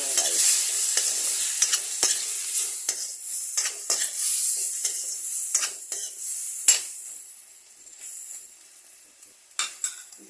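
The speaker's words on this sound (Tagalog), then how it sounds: "Igisa natin yung guys." Ampalaya sautéing in oil left from frying fish, with a utensil stirring and scraping the pan in quick repeated strokes over a steady close sizzle, no talk.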